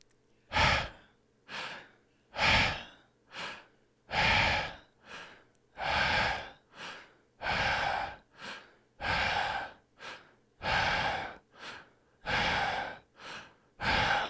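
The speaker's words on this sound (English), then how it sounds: "Breathe in through the mouth, short breathe out, exhale through the mouth." Deliberate mouth breathing in a guided breathing exercise: about a dozen close, airy inhales and exhales in a steady rhythm, each breath a distinct rushing burst separated by brief silences, with no talking.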